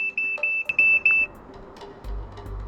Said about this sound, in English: But of course the phone is going to continue to beep until I acknowledge.